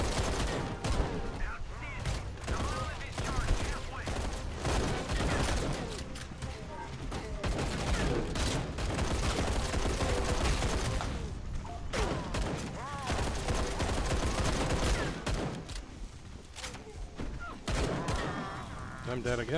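Gunfire in the video game Raiders of the Broken Planet: continuous rattling volleys and shots layered over game music and effects, dense and busy, with a voice talking over part of it.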